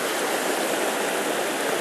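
The Farmington River rushes steadily over a spill in an aggressive run, a dense, continuous roar of close, churning water with no other sounds.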